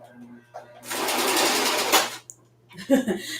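A home sewing machine runs in a burst of about a second while back stitching a slip strap, followed by a shorter whirring stretch, with a person talking around it.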